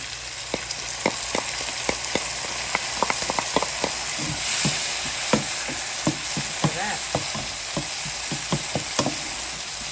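Tomatoes sizzle in a hot pan on the stove with beef ribs while a utensil stirs, giving a steady frying hiss broken by frequent sharp scraping clicks.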